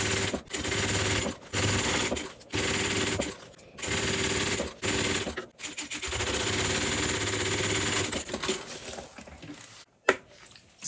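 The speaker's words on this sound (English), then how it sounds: "Seam allowance going to the top and top stitch." Sewing machine top stitching a tote bag seam, fast mechanical rattling in several bursts separated by short pauses, close and loud, with a sharp click near the end.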